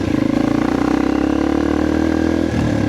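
A motorcycle rolls over a rough, potholed rural road, its engine droning steadily and loud with rattling clatter throughout, then easing off briefly near the end.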